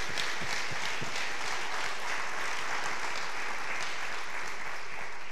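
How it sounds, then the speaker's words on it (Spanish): A church congregation gives a sustained round of applause, dense clapping that stays steady and fairly loud throughout. "si de repente me acompañas dándoles un aplauso a ellos y gracias a Dios por sus vidas"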